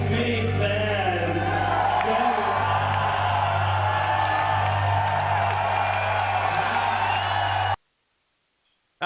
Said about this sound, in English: that crowd was lit